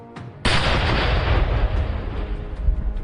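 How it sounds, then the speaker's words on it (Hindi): A blast destroys a car in Kashmir, a sudden loud explosion that booms out after a short quiet moment and then rolls on as a long, heavy echoing rumble. "धमाके की ये गूंज उस साजिश का खात्मा है"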